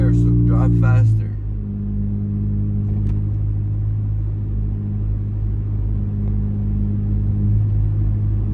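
A straight-piped 2004 Honda Accord with a 2.4L four-cylinder and cold air intake drones loudly and steadily from inside the cabin, with a brief voice at the start.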